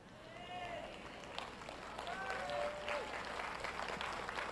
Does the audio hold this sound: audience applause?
yes